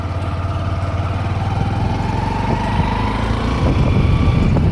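A Honda SP 125 E20 motorcycle cruising in third gear at about 20 km/h on a road gives a steady, smooth mid-pitched engine drone with no talk over it.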